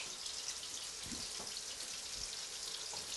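Masala being sautéed in oil in a pan, a faint, steady sizzle and crackle with a few soft stirring scrapes, heard alone.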